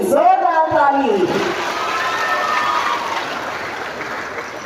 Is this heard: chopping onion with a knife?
no